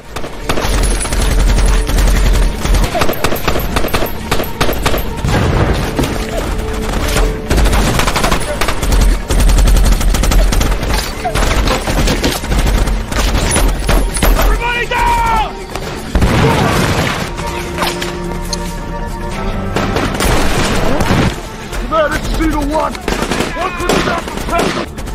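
Sustained gunfire and explosions from a rebel attack in the war film Tears of the Sun, set in Nigeria, with loud dense bursts, booms and crashes layered with shouting voices and dramatic score throughout.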